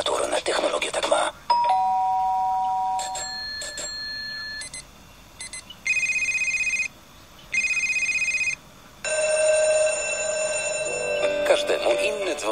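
A string of different bells, doorbell chimes, phone-style rings and alarm-clock tones, sounding one after another in separate bursts with short silences between, bright and close.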